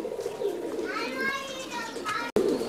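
Pigeons in a loft of more than 200 birds, including Malay pigeons, give soft cooing calls amid general background noise. People talk nearby.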